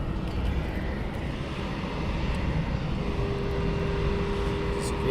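Cargo jet operating at East Midlands Airport in the evening, a steady broad engine roar holding at a constant level throughout with a faint tonal whine, some distance away, with a voice talking faintly over it.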